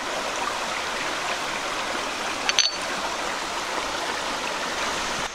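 Steady creek water rushes and trickles over stones close by, a continuous broadband flow with one brief splash or knock midway, no voices.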